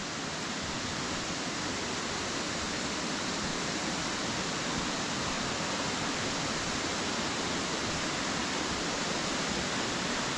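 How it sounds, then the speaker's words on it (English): A fast-running waterfall roars in a steady, dense wash of white water, loud and unbroken throughout with no voices over it. "here we are at the waterfall"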